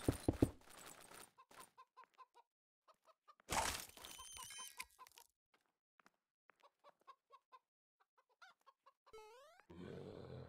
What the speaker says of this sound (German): Wieder ein Huhn.